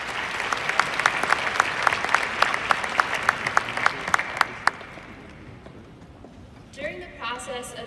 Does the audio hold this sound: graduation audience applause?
yes